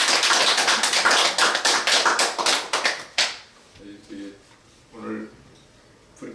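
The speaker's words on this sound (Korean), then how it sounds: "이참에 우리 같이 한번 박수 한번 치겠습니다" Congregation clapping together at a Korean evening church service: dense, loud applause for about three seconds, then it stops abruptly and quiet talk follows.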